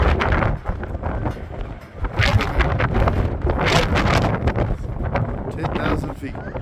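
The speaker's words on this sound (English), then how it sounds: "So windy up here." Strong wind at a mountain station on Titlis in Switzerland, about 10,000 feet up, roaring steadily and buffeting the microphone close up throughout.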